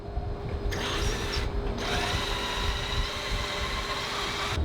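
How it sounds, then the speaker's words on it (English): Power drill boring through an aluminum custom speaker mount for a 1986 catamaran mast, a loud continuous whine that cuts briefly and restarts, close up. "Aluminum is so much easier to drill through than stainless steel."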